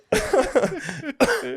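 An adult man coughs a few times in a row, harsh and close, with a short pause before a final cough.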